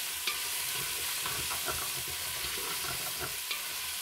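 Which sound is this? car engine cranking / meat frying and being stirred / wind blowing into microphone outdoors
meat frying and being stirred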